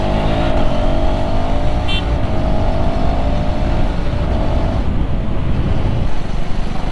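A KTM 350 motorcycle on a test ride: a steady, loud engine drone with a rising whine, close and continuous, with a short high chirp near the start and the tone easing slightly toward the end.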